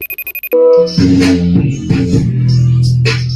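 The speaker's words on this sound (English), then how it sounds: "Who the fuck is calling me?" Phone ringtone: a quick run of bright, high beeping pulses close by, cut off after half a second by a louder, lower tonal sound that carries on.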